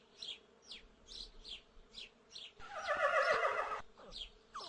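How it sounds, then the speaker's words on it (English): A horse on a farm gives one loud whinny lasting about a second, set among repeated short chirping calls and a faint buzz. "This is a horse."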